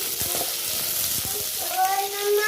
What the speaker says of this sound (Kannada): ಅದಕ್ಕೆ ಈರುಳ್ಳಿ ಮತ್ತು ಕ್ಯಾಪ್ಸಿಕಮ್ನ ದಪ್ಪಾಗಿ ಕ್ಯೂಬ್ಸ್ ಥರ ಹಚ್ಚಿಟ್ಕೊಂಡಿದ್ದೀನಿ. ಅದನ್ನಿಲ್ಲಿ ಫ್ರೈ ಮಾಡ್ಕೊತಾ ಇದ್ದೀನಿ.